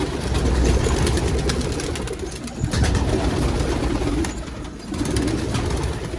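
Pigeons in a loft coo and flutter close by, with a low engine-like rumble running underneath the whole time.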